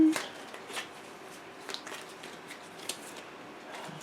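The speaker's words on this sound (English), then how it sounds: "All right, we're going to get our cards for this week." Tarot cards being shuffled and drawn by hand, with soft repeated flicks and riffles in short bursts, close up and fairly quiet in a calm room.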